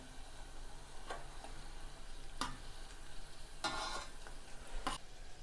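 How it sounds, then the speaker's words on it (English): Onion bhajis frying in oil, a soft, quiet sizzle with a few sharp crackles and pops scattered over a few seconds. "Now let them be fried properly from other side as well."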